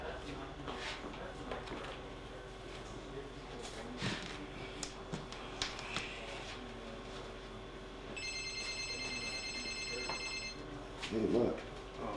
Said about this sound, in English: Hey, look, there's a telephone ringing.